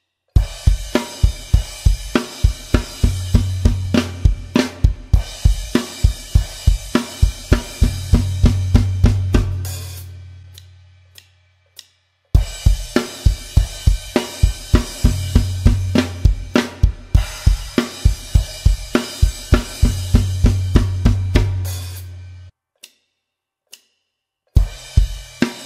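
A full drum kit plays the last line of the chorus of a song, a busy, driving pattern with rapid cymbal and snare hits over low thumps, repeating the phrase twice with brief pauses between.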